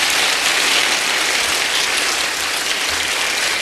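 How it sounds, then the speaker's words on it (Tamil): An audience at a motivational talk claps for themselves in a thick, unbroken roar of applause, so dense and even it resembles heavy rain, loud and steady throughout with no voices over it. "உங்களுக்காக நீங்கள் ஒரே ஒரு முறை கைத்தட்டி கொள்ளுங்கள்"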